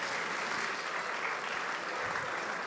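A crowd of supporters at a French team presentation evening applauds a marketing director, a faint, even, continuous patter of clapping heard from a distance without interruption.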